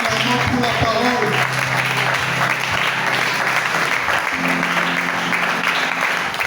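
A church congregation at a Sunday service breaks into sustained applause, dense clapping filling the room with voices mixed in, continuing at an even level throughout.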